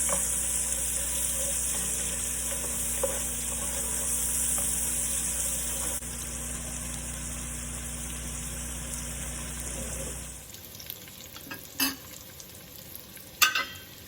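Chopped onion frying with bacon in a soup pot, a steady loud sizzle that cuts off abruptly partway, followed by quieter clinks and stirring noises.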